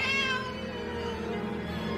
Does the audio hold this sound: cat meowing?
yes